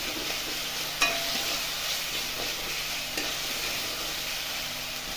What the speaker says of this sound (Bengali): মশলাটাকে ভালো মতন ভেজে নেব।